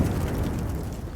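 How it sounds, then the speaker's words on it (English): A frag grenade goes off in the video game Warhammer 40,000: Rogue Trader, a short, loud, deep rumbling blast that fills the whole moment with no voices over it. "A frag grenade explosion cuts off the rest of the sergeant's words"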